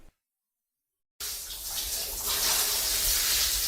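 Water runs steadily from a tap into a basin for a salon hair wash, a constant bright rush starting abruptly after a second of silence and continuing at even strength.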